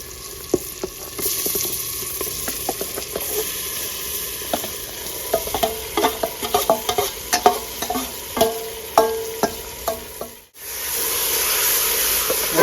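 Marinated chicken and onions stirred in a hot pan, steady sizzling broken by repeated spoon scrapes and clacks in an uneven rhythm, with a brief break near the end before the sizzle resumes.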